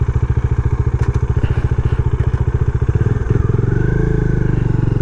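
A motorcycle engine runs steadily up close with a rapid, even pulsing idle that shifts slightly in pitch partway through, some clatter and thumps around it, near a roadside shop by the Río Grande waterfall in Honduras.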